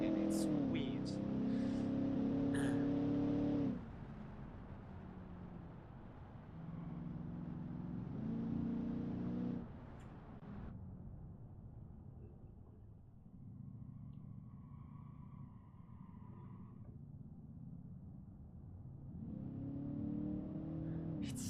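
Simulated car engine in the game Automation at full throttle, droning and climbing in pitch, then dropping as it shifts up and back down, repeating in waves, mid-loud with a low rumble underneath.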